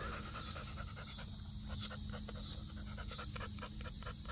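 American Bully show dog panting steadily and rapidly close up, soft rhythmic breaths over a constant background hum, with no talk.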